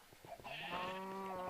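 A single sheep bleating in the Minecraft video game, a short, close, wavering baa rising after a few soft clicks, faint but clear and alone.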